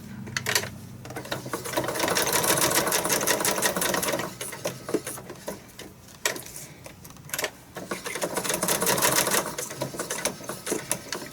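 A sewing machine stitching paper cards in fast, steady bursts, close and loud, with brief stops between runs of rapid mechanical clatter.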